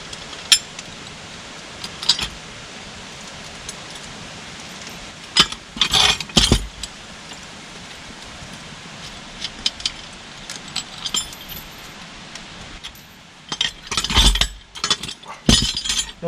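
Metal nuts and washers from an Air Lift LoadLifter 5000 Ultimate Plus install on a Ford F450 clink and jingle as they are sorted apart by hand. The light metallic taps come in scattered, sparse bursts over quiet background.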